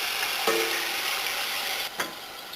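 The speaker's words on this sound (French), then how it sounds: "Donc je vais les sortir de la friteuse." Homemade fries from garden potatoes being lifted out of hot oil in a fryer, a steady soft sizzle with two sharp metallic clanks of the basket.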